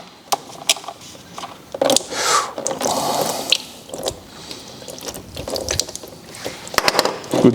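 Engine oil drains from the frame and crankcase drain holes of a Yamaha WR450F motorcycle, a close, wet splashing and dripping stream with irregular drops and clinks, fairly loud, no talk.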